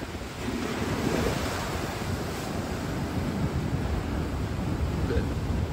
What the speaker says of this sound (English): And all that white water, you can't swim in it because it's half the water's bubbles.